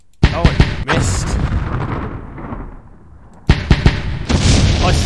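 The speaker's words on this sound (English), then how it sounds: "That should be artillery." Artillery fire rings out in the war game Campaign Series Last Crusader: two loud booming volleys of sharp reports, each trailing into a long rumbling decay, up close with no talk over them.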